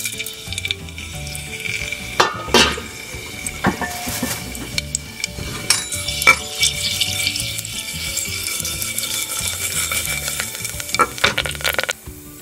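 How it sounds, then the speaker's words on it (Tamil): Spices fry in hot oil in a pan for a plain roadside-style empty salna to serve with parotta. A steady close sizzle runs throughout, with stirring scrapes and occasional clinks of a utensil against the pan. "இந்த எண்ணெய் நல்லா சூடானதுக்கப்புறம் நம்ம ஏற்கனவே சொன்ன மாதிரி அது மசாலாலாம் ஆட் பண்ணுறோம்"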